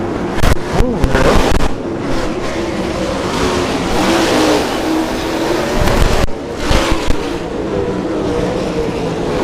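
Race cars roar around the State Fair Speedway in Sedalia, Missouri, during fair races. Engines snarl loudly and continuously, with pitch sweeping up and down as cars pass close by and then pull away.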